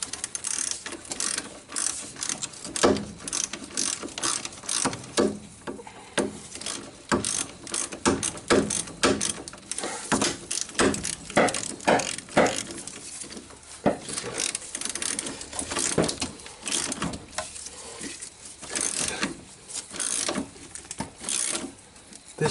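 A wrench ratchets steadily on an axle bolt of a 1998 Nissan Sentra during passenger-side axle replacement, with a long run of close, dense clicking and metallic turning.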